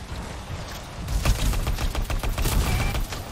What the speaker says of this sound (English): after it hits five times in a row, it'll do like a fire explosion